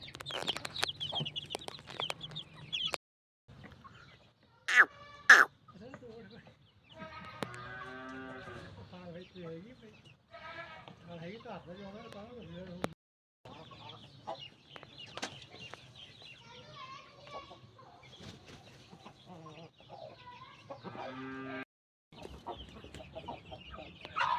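Aseel chickens and roosters cluck and call in scattered bursts on a farm in Nakodar, loud and close, with a voice coming through at times between the bird sounds.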